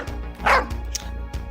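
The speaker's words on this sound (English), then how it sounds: "There's a barking dog in the background." A dog barks in the background, one short bark followed by a few fainter yips over a steady low hum.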